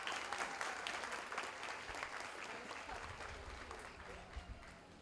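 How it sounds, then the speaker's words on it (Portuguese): A ceremony audience applauds local authorities at the reappointment of a university rector, with a steady wash of many hands clapping at a distance and some faint crowd murmur beneath. "Uma salva de palmas para as nossas autoridades."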